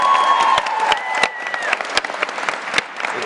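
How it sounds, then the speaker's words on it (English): An audience at a PaleyFest 2012 panel applauds, dense clapping that thins into scattered claps, with a voice briefly audible over it at the start. "Big clap. Feel strong about it. Big clap."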